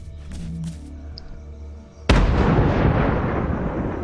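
An explosion in Fortnite: after a quiet lead-in, one sudden loud blast lands close by and then rumbles and crackles as it fades over the next couple of seconds.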